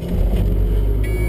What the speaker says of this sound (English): Half a rotation of the starter. The engine's running.